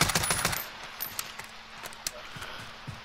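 Gunfire in Call of Duty: Warzone opens with a quick loud burst, then gives way to scattered fainter shots and clicks at uneven intervals over a quiet background.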